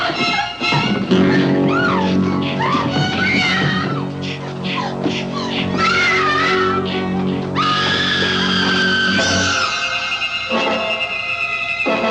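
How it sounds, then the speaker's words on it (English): A woman screams in terror in a 1980 horror film, long sustained shrieks rising and wavering over a dense backdrop of score and effects, loud and close. "a woman screaming in abject terror"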